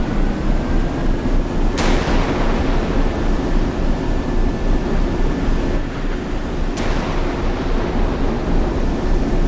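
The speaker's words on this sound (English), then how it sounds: "We have a gentleman's agreement set up that we allow the vessel with the slowest missiles to fire first, and that's going to be the Pegasus" A Pegasus missile hydrofoil launches missiles during a naval battle game, two sharp cracking launches several seconds apart standing out over a loud, constant rushing roar of sea and engine noise, with no voices.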